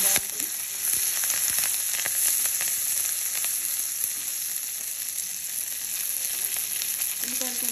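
Onions frying in a pan give a loud, dense, continuous sizzle, with a few faint scrapes of stirring under it and no voices.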